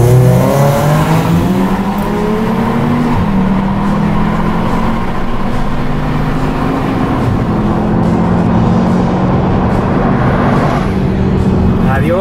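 A naturally aspirated Subaru BRZ sports car engine drones steadily as it accelerates at high altitude, its pitch climbing through gears, loud and continuous with faint tire noise.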